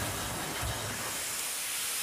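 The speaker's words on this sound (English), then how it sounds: "This locomotive behind me, Henchurch, is what's known as a tarrier" Henchurch, a small Terrier steam tank locomotive, lets off a loud, steady broadband hiss of steam at close range, fading slightly toward the end.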